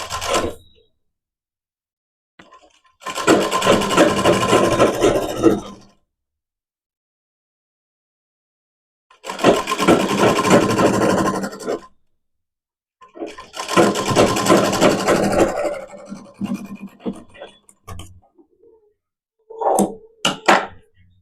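Sewing machine stitching a blouse, running in three long bursts of rapid mechanical whirring separated by silent pauses, with short clicks and a brief stop-start at the end.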